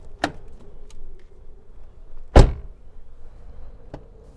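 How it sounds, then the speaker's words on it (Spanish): A car door slams shut, a sharp single thud standing out clearly in a quiet setting, with a fainter click or knock just before and a small tap after. "Escuché el golpe de la puerta al cerrarse."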